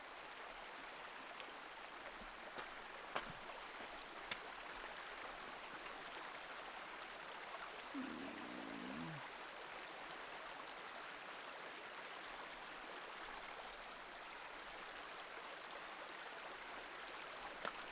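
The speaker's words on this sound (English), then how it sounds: "Creek from up here comes down and is just flowing" Creek water flowing down a hiking trail in spring woods, a steady faint broadband rush throughout with a brief low thump partway through.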